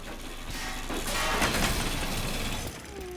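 In the Pacific Drive video game, an abandoned car is scrapped for glass shards and metal, giving a sustained, rough mechanical grinding and rattling noise that swells and then cuts off near the end.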